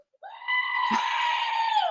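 A goat lets out one long, loud, strained scream lasting nearly two seconds, rising sharply at the start and holding steady to the end, alone with no talk.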